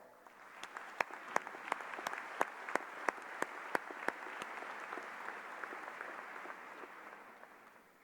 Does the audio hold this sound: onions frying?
no